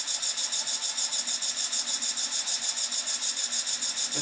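A 1/16 inch beading tool cuts across the side grain of a wooden workpiece on a lathe, giving a steady, even scraping hiss with a quick regular pulse, close and continuous throughout.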